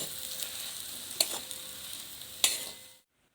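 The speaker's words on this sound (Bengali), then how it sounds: "এবার ভালো করে নেড়ে চেড়ে আমি গ্যাসটা বন্ধ করে দেবো।" Fried peanuts with chili powder and spices are stirred in a pan. A quiet, steady sizzle carries two sharp clinks of a spoon against the pan before the sound cuts to silence.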